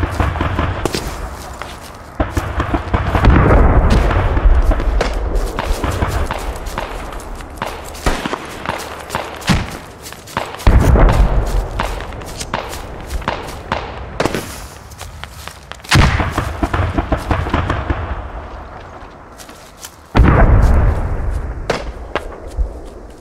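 Explosions and gunfire in the military shooter Squad, loud sharp blasts and bursts of shots at irregular intervals, with heavy booming impacts amid footsteps and shuffling.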